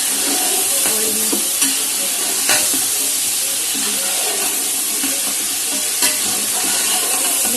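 Chicken pieces fry in oil over browned onions for a pulao, a loud, dense, continuous sizzle with occasional scraping clicks of a spoon stirring the pan, close up and without talking.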